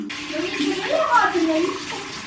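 Hands are washed under a running tap, the water splashing and gurgling close up for a couple of seconds while voices murmur in the background.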